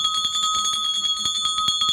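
A bell rung rapidly and continuously at a bicycle race for a cash prime, its bright metallic strikes repeating many times a second with a steady sustained ring, loud and alone.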